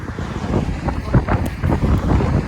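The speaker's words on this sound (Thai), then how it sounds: "ลมก็แรง" Strong wind blows across an open field where wild greens are being picked, buffeting the microphone in a loud, continuous roar.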